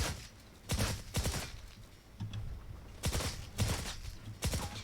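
Bursts of rapid automatic fire from the Ratatat gun in Fortnite Save the World, several short volleys separated by brief pauses, loud and close with no talking.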